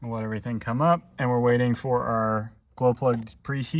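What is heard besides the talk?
No distinct noise like a dog, phone or traffic.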